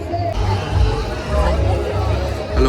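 Crowd babble from a large gathering at a qawwali night at Pirwadi Dargah in Uran, a steady murmur of many voices close by.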